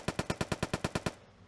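Automatic rifle fire in a video game: a rapid, evenly spaced burst of about ten loud shots, then sudden silence.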